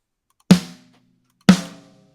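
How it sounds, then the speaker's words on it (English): A sampled snare drum played back in a mixing session, two sharp, punchy hits about a second apart, each with a quick bright attack and short ringing decay, alone without talk. "Cole has some cool all around snares. They sound like this."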